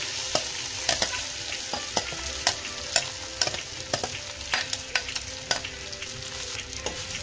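Flattened rice (poha) with turmeric frying in a pan sizzles softly while a spatula scrapes and stirs in regular strokes, about two per second, with no voices.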